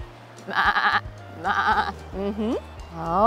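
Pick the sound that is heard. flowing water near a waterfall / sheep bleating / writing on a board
sheep bleating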